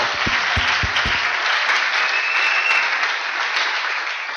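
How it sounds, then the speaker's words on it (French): A church congregation claps loudly and steadily, a dense wash of applause that carries on for several seconds with a few low thumps near the start. "Applaudissons fort le Seigneur."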